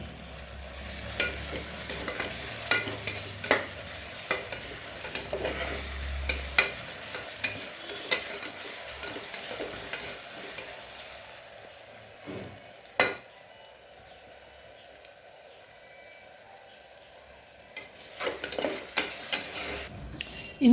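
Onions sautéing in a pan for a wedding-style fish curry, with a steady close sizzle and repeated scraping stirs throughout, plus a few louder clanks near the end.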